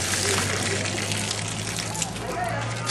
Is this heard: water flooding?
yes